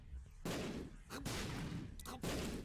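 Bomb explosions from The Binding of Isaac game burst out in three heavy, noisy blasts spaced roughly a second apart, each a thick rumbling crunch that holds before cutting off, fairly quiet overall.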